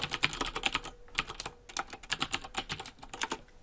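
Fingers tap out quick bursts on a computer keyboard, close and crisp, with a short pause before the keystrokes resume in an uneven rhythm.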